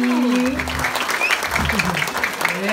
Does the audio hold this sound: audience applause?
yes